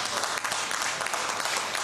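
Brief burst of audience applause at a French-language stand-up comedy show, a dense, even patter of many hands clapping, fairly loud with no talk.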